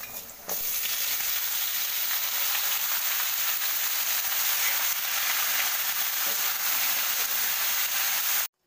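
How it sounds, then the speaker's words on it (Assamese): Onions fry in a pan for a Leberaa bhaji, giving a continuous loud hiss and sizzle that holds evenly throughout, no talk over it. "এয়া পিঁয়াজ ভাজা হৈ আছে"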